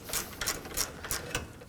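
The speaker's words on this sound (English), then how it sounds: "Now we're gonna remove the last bolt, holding the condenser in place using the same 10mm socket." A 10mm socket on a ratchet loosening the last bolt on the AC condenser of a 2014-2020 Acura MDX, a quick series of faint rhythmic clicks, about five or six, close by.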